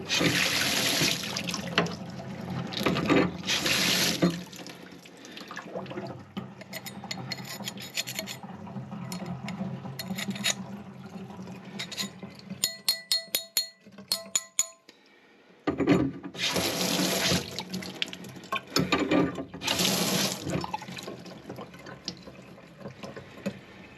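Water runs and gurgles through a neglected, muddy steam boiler, a rough, splashing flow close by that surges in bursts, thins to a faint trickle with small clicks partway, then gushes strongly again.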